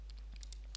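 Computer keyboard typing at a desk, a handful of quick, faint key clicks spaced irregularly over a low steady hum, growing denser in the final moment.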